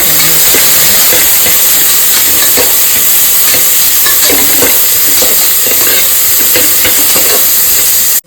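Two medium-sized onions fry with green chilies in a pan for a vegetable pulao, giving a loud, steady sizzle and hiss with intermittent scraping clicks of stirring close by.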